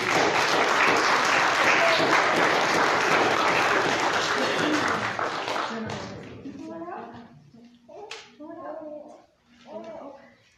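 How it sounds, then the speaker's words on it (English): A church congregation applauds during a worship service: loud, dense clapping holds steady for about six seconds, then thins out as talking voices take over. "You can clap and rejoice,"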